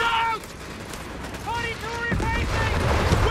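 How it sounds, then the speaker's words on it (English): Mortar fire in Company of Heroes 3 during a 1v1 match: a heavy, rumbling blast swells up midway and keeps booming beneath the steady stream of a commentator's voice. "And then mortars force a retreat."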